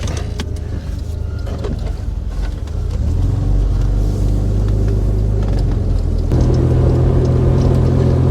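A 1974 Volvo 164e on new wheels and tires cruising down an open road, a steady low engine and road rumble that swells a little as it picks up speed.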